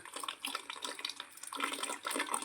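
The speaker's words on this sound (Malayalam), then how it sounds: "ഇതാ വെള്ളം വരുന്നുണ്ട് ക്യാനിലേക്ക് വെള്ളം വരുന്നത് കാണുന്നുണ്ട്" Water pours from a tank into a can, a faint, steady splashing trickle that runs on without a break.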